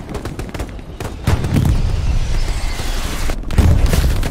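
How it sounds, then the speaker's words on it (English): Artillery shells landing nearby in Hell Let Loose, deep booming impacts with rumbling debris, a big hit around the middle and another near the end, loud and close. "Shells are landing near you guys."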